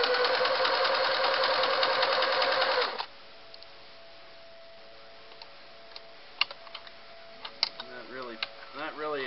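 A Singer 353 Genie sewing machine runs a satin stitch, whirring steadily up close for about three seconds before stopping; faint clicks and handling noises follow, along with a few squeaky, sliding tones.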